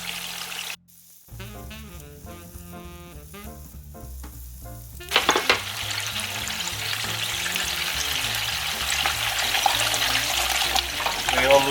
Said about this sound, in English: We always stirring our tomato and still cooking.